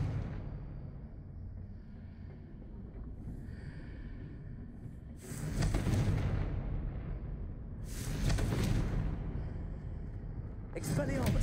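Confringo, an exploding fire spell in the game Hogwarts Legacy, cast three times in a row, each a loud broadband blast with a rumbling tail, rising out of a low ambient game background.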